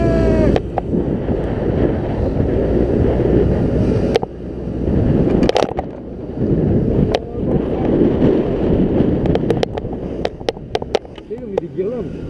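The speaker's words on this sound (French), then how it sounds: "là les gars on se retrouve sur le scooter en train de rouler." Heavy wind buffets the microphone as a scooter rides along, a constant roaring rush with brief knocks and a voice talking over it.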